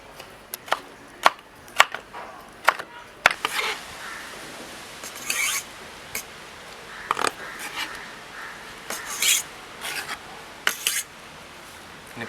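A knife chops tomatoes and onions on a board, with irregular sharp taps and short bursts of cutting, fairly soft and close, with no talking.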